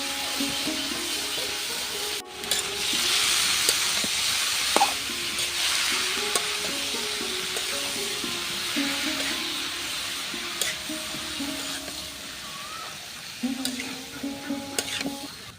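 Spiced potatoes tossed into hot oil in a wok for a potato and egg fry, a loud continuous sizzle with stirring scrapes and clinks throughout, no talk.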